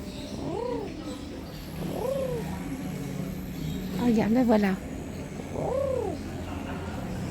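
Soft, rising-and-falling coos of turtle doves repeat at a few-second intervals, with a person speaking briefly between them against a quiet outdoor background.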